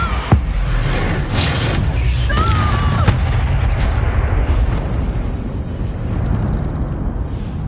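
Bombarda spell explosions in the Hogwarts Legacy video game: loud, booming blasts with sharp bursts, riding on a dense, continuous rumble of battle noise.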